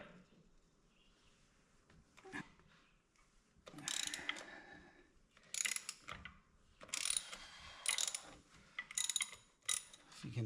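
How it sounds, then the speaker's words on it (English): A ratchet wrench turns to loosen a Flo reusable magnetic oil filter on a vehicle, giving several separate bursts of bright clicking and mechanical rasping with short pauses between them, close and fairly quiet, with no talk. "put my ratchet on that. Righty tighty, lefty loosey."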